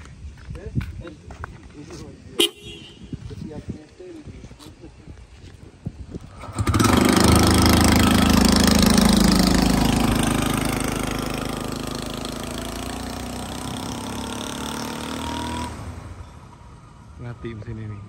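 A motorcycle engine runs during a fuel consumption test, starting up loud and close after several seconds of talk, then droning steadily while gradually easing before cutting off near the end, with people talking before and after.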